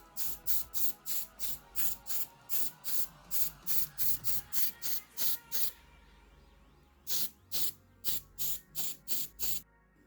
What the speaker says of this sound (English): I already today sprayed first hand of paint.